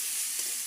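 Spices with turmeric powder fry in a pan while being stirred, a steady close hiss of sizzling with a faint scrape, brief and unbroken.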